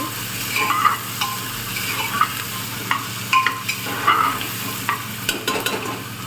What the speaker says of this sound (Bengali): আর একটু জিরে পেঁয়াজ দিয়ে দেবো এই বাটারের সাথে পেঁয়াজ ভাজলে এত সুন্দর একটা গন্ধ আসে